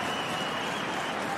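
Stadium crowd at a women's football match, Champions League, cheering and applauding in a dense, loud, continuous roar over the whole brief moment.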